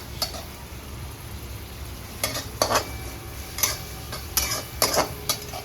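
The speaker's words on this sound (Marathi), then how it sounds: "चांगला परतला कांदा आता" Chopped onion sautéed in a pan for pav bhaji, with bursts of spatula scraping and clinking against the metal over a low steady sizzle.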